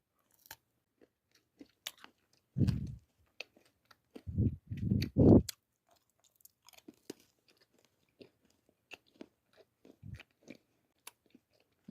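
Crunchy dalgona chocolate candy chewed close to the mic, with three or four loud crunching bursts in the first half and one more near the end, separated by quieter mouth sounds.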